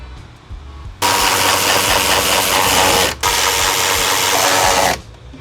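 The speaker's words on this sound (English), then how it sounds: "using one of these right angle ratchets is the secret" A right angle ratchet drives bolts into a carbon fiber side skirt on a BMW, two bursts of dense, loud rapid whirring close up, split by a brief pause, with a quieter workshop background before and after.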